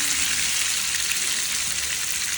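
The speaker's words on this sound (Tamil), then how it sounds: "இப்போ ஒரு பீஸ் மீன் எடுத்து நான் வந்து இப்போ வந்து பொரிக்கிறதுக்கு பேனில் போட்டுட்டேன்" Steady, bright sizzling of fish frying in hot oil, a dense crackling hiss that holds evenly throughout with no voices.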